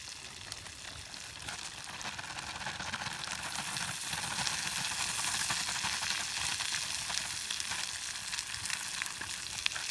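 Wild high mountain potatoes go into a hot frying pan with a camp scramble, giving a dense, steady sizzle that swells slightly and holds loud throughout, without any voices.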